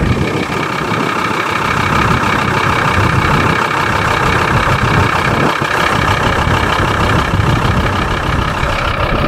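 A vehicle engine runs steadily while stuck in beach sand during the Budapest-Bamako rally, a continuous loud rumble holding for the whole stretch with no talk.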